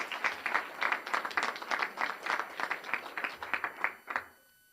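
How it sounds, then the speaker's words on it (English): A small audience at an awards ceremony claps for supporting families, giving a sparse, rhythmic round of applause of distinct, fairly close handclaps that stops cleanly after about four seconds. "So why don't we give the families a round of applause for supporting you."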